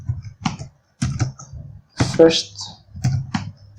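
Java code is entered on a computer keyboard as a steady run of close clicking keystrokes in small clusters, with a person talking over the typing.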